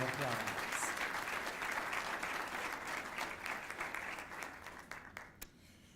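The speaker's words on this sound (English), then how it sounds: "let's give all of our community partners a round of applause" An audience applauds at a business event held at Rivers Casino, steady clapping that holds for several seconds and then tapers off toward the end.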